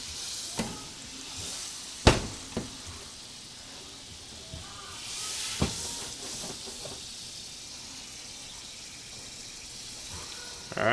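Butter melting and frying in a cast iron pan, a soft steady sizzle with a few sharp clinks and stirring knocks scattered through, fairly quiet and close.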